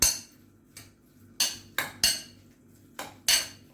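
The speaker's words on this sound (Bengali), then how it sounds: "এটাকে ভালো করে মেশাতে হবে" Chopped ginger and onion mixed in a bowl, heard as a series of sharp utensil clinks and scrapes against the bowl at an irregular rhythm, fairly close, with no talking.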